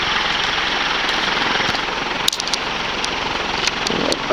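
A circa-1980 SMC Laguna 36-inch industrial ceiling fan, model KA36, running on high at about 380 RPM gives a steady, loud whooshing drone with a faint mechanical hum, broken by one brief click near the middle.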